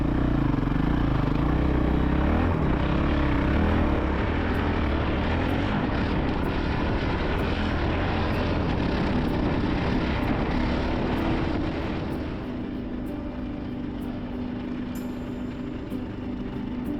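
Pack of about ten dirt bikes, including a Honda CRF450L, roaring past close on desert sand in the Simpson Desert, a dense broad engine drone that stays loud for most of the pass, then eases slightly as the group moves on.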